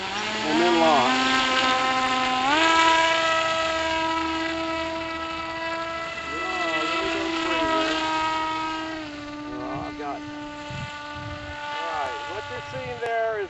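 A Hawkeye camera RC plane's electric motor whines at partial throttle, a steady, loud, close tone that steps up in pitch and later wavers as it climbs and levels off.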